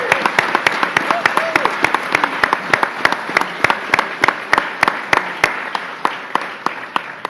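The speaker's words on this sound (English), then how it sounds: "it deserves another round of applause" A crowd applauds the governor at a hospital announcement event, a steady wash of clapping punctuated by sharp, regular close claps near the microphone throughout, with a faint voice briefly audible beneath.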